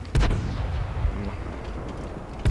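Artillery shells slam into a tank in a tank combat video game: a heavy boom, then a second thud about a second later and another near the end, with a low, rumbling background between.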